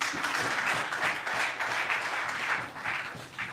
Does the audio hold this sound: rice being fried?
no